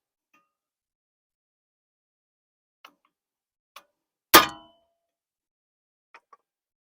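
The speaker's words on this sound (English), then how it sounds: "So now we put our tool right into the Phillips screw that is holding the rotor against the hub, and then we hit it." A tool seated in the Phillips screw holding a brake rotor to the hub of a Chevy Spark gets struck once, giving a single sharp, loud metallic clang in near silence, with a few faint ticks before and after.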